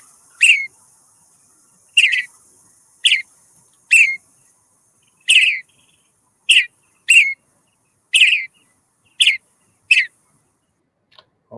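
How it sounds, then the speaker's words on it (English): Western Bluebird song in oak woodland: about ten short, clear whistled phrases spaced roughly a second apart, loud and close over near silence, with no talking. "Western Bluebird, you are correct."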